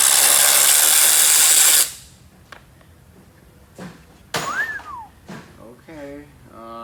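A power tool whirs loudly and steadily for about two seconds while a cafe racer motorcycle is taken apart, then stops; scattered clicks, knocks and a rising whistle-like squeak follow, with voices talking afterward.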